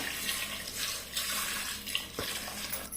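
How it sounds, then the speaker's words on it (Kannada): Water pours into a pot of vegetables, making a continuous close rushing splash with a brief shift in tone partway through. "ಇವಾಗಿಲ್ಲಿ ತರಕಾರಿ ಮುಳುಗುವಷ್ಟು ನೀರನ್ನು ಕೂಡ ಹಾಕಿಕೊಳ್ಳುವ"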